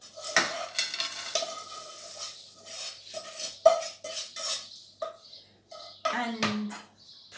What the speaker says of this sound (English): And press them down with a spoon.